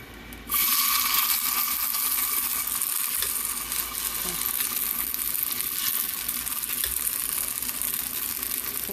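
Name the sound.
black chickpea pongaralu batter frying in a pan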